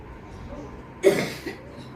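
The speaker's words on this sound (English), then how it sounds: "I have some cough today." A single short cough breaks through a quiet background, close and moderately loud, followed by a brief pause.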